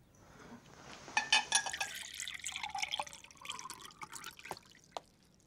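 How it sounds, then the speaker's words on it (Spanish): Water poured from a tap or jug into a glass in a quiet home, a short trickling fill of about four seconds with splashy drips, close and fairly soft. "Te voy a servir un poco de agua."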